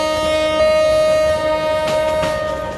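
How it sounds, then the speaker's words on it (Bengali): A train in the Train Simulator video game, with a steady loud tonal hum like a horn or motor whine held throughout and faint clanks and rumble underneath, no talking. "এদিক দিয়ে একটা ট্রেন আসতেছে"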